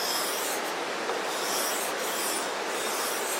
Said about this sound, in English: Just rubbing the knife back and forth, so I decided to give it a try.